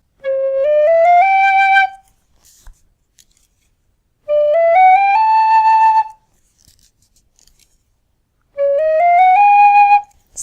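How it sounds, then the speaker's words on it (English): A Dixon tunable tin whistle plays three separate short phrases of rising and falling clear tones, each about two seconds long, with pauses between them and no other sounds. "this whistle here is a Dixon tunable"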